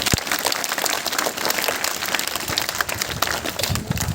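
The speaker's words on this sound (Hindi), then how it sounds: "जोरदार तालियां बजाएं" Loud, close crowd applause at a Hindi spiritual talk, with vigorous, dense clapping running unbroken throughout and a few sharper individual claps standing out.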